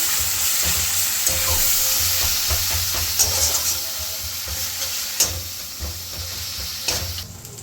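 Onion with garlic and ginger paste sautéed in a pan for a sea crab dish, a dense close sizzle with repeated clicks and scrapes of stirring that thins slightly toward the end.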